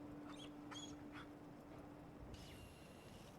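A dog whimpers in Fallout 4, giving a few short, faint whines over steady ambient game noise, followed by a longer high tonal sound near the end.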